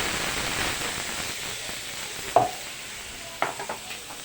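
Coconut milk simmering with stingray gives a steady, soft sizzling hiss, broken by a couple of brief clinks from stirring and no talk.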